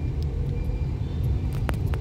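Steady road traffic on Katipunan C5 Road, a continuous low rumble of cars and trucks with a few brief higher-pitched squeaks or horn-like bursts toward the end.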